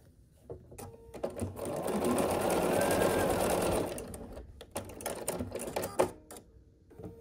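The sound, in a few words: sewing machine stitching quilt block strips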